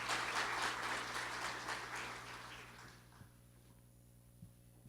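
Applause from the audience at an opening-remarks event, a steady round of clapping that fades over about three seconds into a quiet, humming room with a few faint knocks.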